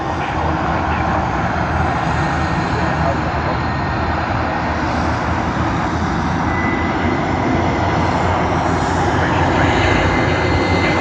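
A Qantas Boeing 737 airliner in retro livery roars at Sydney Airport. Its engine noise holds loud and steady throughout, a continuous broadband rumble.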